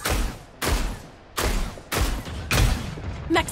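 Gunfire in the video game Super Mecha Champions, a series of heavy, booming shots roughly every half second to second, each with a fading rumble, loud and close.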